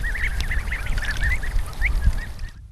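Ducklings in a rice paddy give rapid high peeping calls in a busy, continuous chatter over low rumbling outdoor noise, fairly close and loud.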